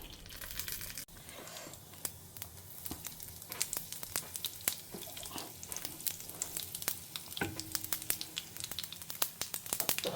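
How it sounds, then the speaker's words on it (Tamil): Mustard seeds and urad dal tempering in hot oil, a steady close sizzle broken by frequent sharp crackles and pops from the seeds, with no one speaking. "இப்போ நம்ம தாளித்து கொட்டிடலாம்"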